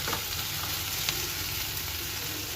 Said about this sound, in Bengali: দুবারে বেতো শাক ভাজা কিন্তু একদম রেডি